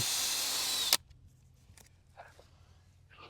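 A power drill runs loudly and steadily for about a second, driving self-tapping screws while building a roll-up door for a greenhouse, then stops abruptly, leaving quiet room tone with a few faint knocks.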